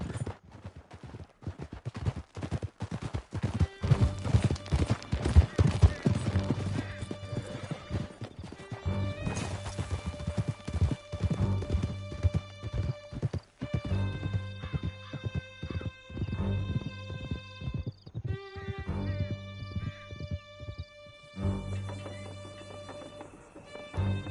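Horses gallop through a canyon in Red Dead Redemption 2, with steady loud hoofbeats, occasional neighs and scattered gunshots behind a swelling musical score.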